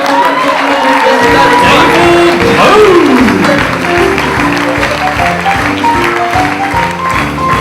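Loud applause and cheering from a live audience at an election special show as a guest is welcomed on stage, steady and dense throughout, with whoops over the clapping.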